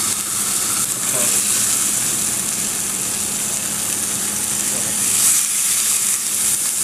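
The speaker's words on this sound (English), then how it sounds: "We're going to start it on the fat side to render out some of that fat." Picanha sizzles fat side down in a hot pan, a steady, close, bright frying hiss that runs unbroken throughout with a faint low hum beneath.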